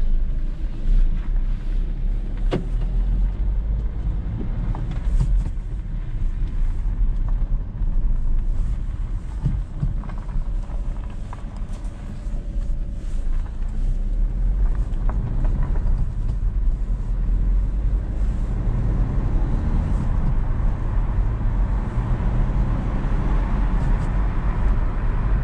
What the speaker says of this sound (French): vous pouvez entendre que le son du moteur est assez reposant